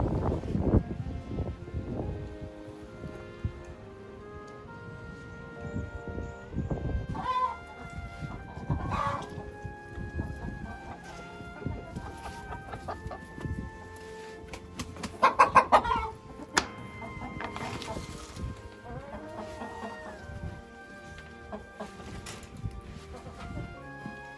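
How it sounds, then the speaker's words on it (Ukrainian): A hen on a dacha plot runs about in the open and gives scattered clucks, some close and some farther off. Occasional louder calls stand out over a quiet outdoor background, with faint speech at the start. "курочка носиться."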